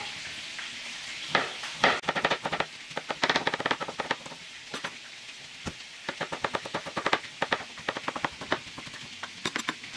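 Rapid, irregular knife chops through garlic on a cutting board, close and crisp, in quick bursts with brief pauses, no talking.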